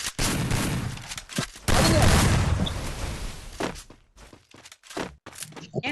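Gunfire in the Free Fire battle royale game, a few loud sharp bursts and single shots spread across a few seconds with brief pauses between them, mixed with some thumps.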